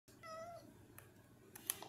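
A short, faint cat meow in a video game sounds once against quiet background, followed by a few soft clicks.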